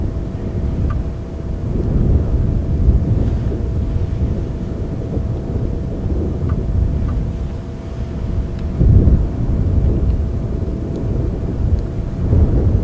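Wind buffets the microphone in a steady low roar, with gusts swelling and easing throughout; no voices are heard.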